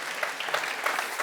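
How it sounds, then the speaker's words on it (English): Audience applause at a festival event, a dense, steady burst of many hands clapping close and fairly loud throughout. "Give him a warm applause."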